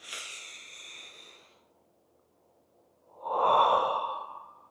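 Two deep, forceful human breaths, one slow drawn-out inhale or exhale at the start and, after a quiet pause, a louder, rushing breath close to the microphone.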